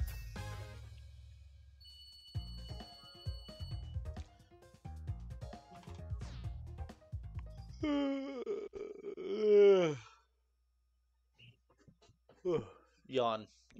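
A person gives a drawn-out, groaning yawn during a Mario Kart 8 Deluxe session, rising and falling in pitch after a stretch of busy game sounds, followed by brief vocal noises.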